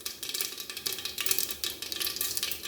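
Mustard seeds sizzle and pop in hot oil in a pressure cooker, a bright, steady crackle with rapid uneven spits close by.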